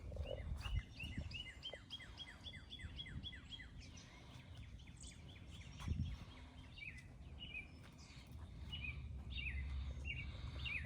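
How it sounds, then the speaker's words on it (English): Birds chirping at a distance in a lily garden in early summer, repeated quick high tweets in loose rhythm over a faint outdoor background, fairly quiet. "We can hear the birds in the background sending out their tweets."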